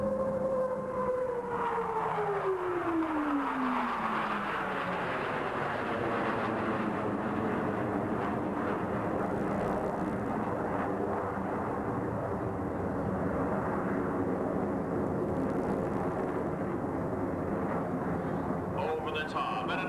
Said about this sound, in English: Power is ease as the aircraft round out the backside of this vertical looping maneuver.